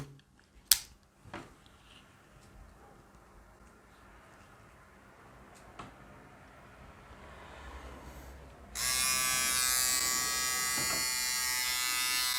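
A Wahl 3615-1016 travel beard trimmer clicks faintly during quiet handling, then switches on at close range near the end and gives a loud, steady electric buzz for about four seconds.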